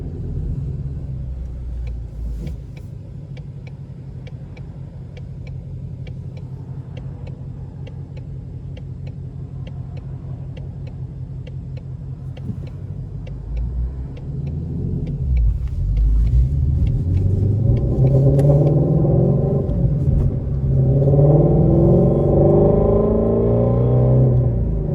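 A 2019 Shelby GT350 on a test drive, its engine a low steady rumble while cruising, then rising into a louder, throatier roar as it accelerates hard in the second half, with no talk over it.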